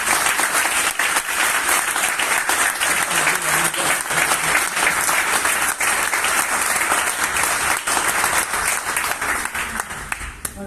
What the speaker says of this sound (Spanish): Creo que se merece un aplauso.